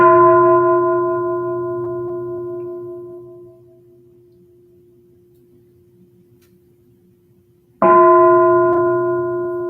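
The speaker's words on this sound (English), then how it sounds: "listen to 3 sounds of the bell" A single resonant bell is struck, rings out and slowly decays to near silence, then is struck again loudly and rings on, during a quiet breathing meditation.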